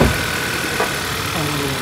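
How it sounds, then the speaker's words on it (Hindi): A 2023 Hyundai Verna turbo engine idles nearby with a steady, loud hum and a slight rough edge, heard alone in a short burst. "तो आइए सुनाते हैं आपको इंजन की इसकी आवाज़।"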